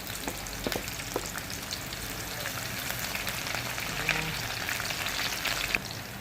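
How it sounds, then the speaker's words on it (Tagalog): Onion sautés in a pan for arroz caldo, a soft steady sizzle with occasional scraping and clinking as it is stirred, heard close with no voices. "sunod natin ang ating sibuyas. Haluin lang natin siya."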